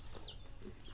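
Chickens in a Kenyan village cluck softly in the morning, a few faint calls over a low, steady rural background.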